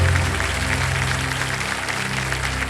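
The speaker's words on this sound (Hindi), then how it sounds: "सर ताली बज जाए" Sustained applause from a TV quiz show studio audience, Kaun Banega Crorepati, loud and steady for nearly three seconds with no talk over it.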